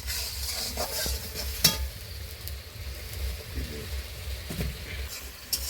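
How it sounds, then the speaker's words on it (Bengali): Spice paste made with ground whole chillies and turmeric fries in a pan while being stirred, giving a steady close sizzle punctuated by occasional sharp clinks of a utensil against the pan. "মশলাটা ভালোভাবে এইভাবে কষিয়ে নিব।"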